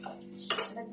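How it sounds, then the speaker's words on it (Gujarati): Urad dal being tempered in hot oil in a home kitchen, a short burst of sizzling with a couple of metal utensil clinks against the pan, fairly quiet and close. "અડદની દાળનો વઘાર કરું છું."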